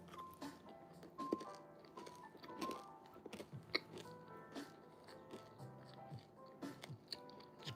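M&Ms are crunched and chewed up close, a series of crisp irregular crunching bites that are faint and loudest in brief bursts, with no one talking.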